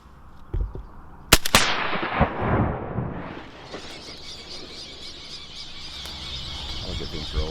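A loud shotgun blast rings out during a duck hunt for cinnamon teal in a marsh, followed by a lingering rumble and a rising whoosh, all under outdoor background noise.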